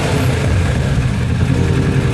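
A 2019 Kawasaki Ninja 650 fitted with a slip-on aftermarket exhaust revs, giving a steady, loud, close engine roar with a crisp exhaust note that holds for about two seconds with no talk.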